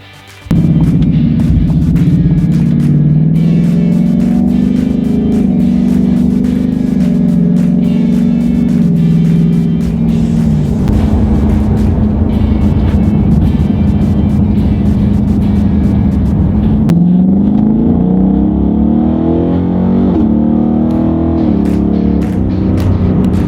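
A Ford Mustang GT muscle car engine rumbles at a low steady pitch, loud and close, with a brief shift in tone partway through before settling back into a continuous drone.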